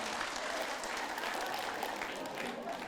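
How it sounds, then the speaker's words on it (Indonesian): An audience at a women's Islamic study gathering claps in steady, continuous applause that stays even in loudness throughout, heard from a moderate distance with no clear voices. "Udah, tepuk tangan Bu."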